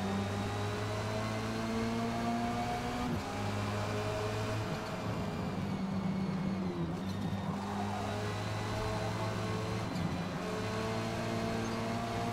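Audi touring car engine racing at Road Atlanta in Forza Motorsport, a steady droning hum with shifting revs and brief gear-change dips, loud and continuous throughout with no talking.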